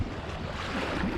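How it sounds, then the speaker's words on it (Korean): A steady, rushing roar of ocean surf fills the whole moment, continuous and fairly loud with a windy wash over it. "바다같이 파도 소리가 많이 나네요."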